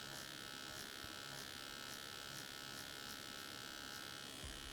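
Tattoo machine needle buzzing steadily during stipple shading, a close, continuous electric hum with faint regular pulses and no talking.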